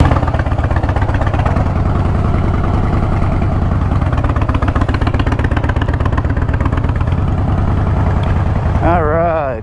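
A heavy motorcycle engine runs close by with a steady, loud, rapid pulsing clatter, and a voice speaks briefly near the end.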